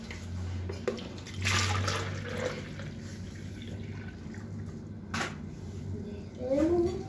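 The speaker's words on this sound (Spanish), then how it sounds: "entonces la voy a estar vaciando aquí en esta jarrita para que ocupe menos" Guava-flavoured water poured from a large bucket into a small jug, giving a close splashing, trickling pour that swells and fades in bursts over several seconds, with faint background noise.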